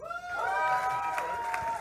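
A crowd at a startup pitch event in Indianapolis cheers and applauds as a speaker walks on stage, a loud, sustained wash of whoops and clapping that fills the room, with a voice faintly underneath.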